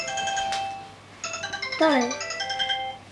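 A mobile phone plays an electronic ringtone melody for an incoming call, fairly quiet at first and then returning after a pause, with someone speaking over part of it.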